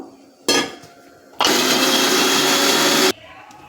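A mixer grinder grinding soaked lentils with water whirs in a short burst, pauses, then runs loudly and steadily for nearly two seconds before cutting off.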